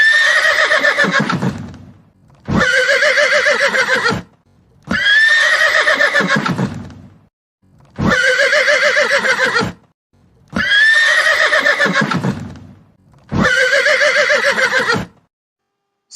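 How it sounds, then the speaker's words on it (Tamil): A horse neighs six times in a row, each a loud, shrill whinny of about two seconds that trails off into a lower snort, separated by short silent gaps. "குதிரை"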